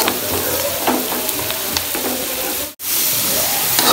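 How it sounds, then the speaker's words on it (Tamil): Tomatoes frying and being stirred with chicken in a pan for chicken devilled, a steady close sizzle with scraping stir strokes throughout, broken by one brief dropout. "தக்காளியை போட்டு நாங்கள் கிளறி விட்டு கொண்டிருக்கணும்"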